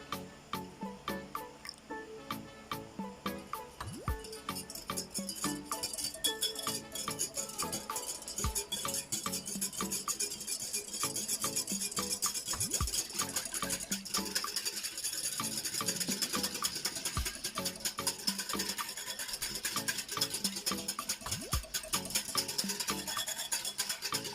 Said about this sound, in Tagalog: Ilalagay lang po natin yun sa milk at hahaluin po natin.